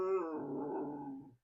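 A single close, low, drawn-out growling bark with a whiny tone from a dog indoors, fading out after about a second and a half.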